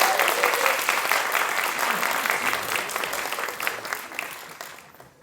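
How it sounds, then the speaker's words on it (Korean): Audience applause at a talk concert, a dense burst of clapping from a seated crowd that holds steady for several seconds and then tapers off toward the end. "박수 한 번만 쳐주시면 안 돼요?"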